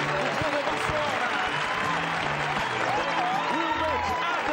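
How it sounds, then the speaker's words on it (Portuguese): A crowd applauds at a rodeo show, steady dense clapping under continuous loud talk and music throughout. "O povo aplaude!"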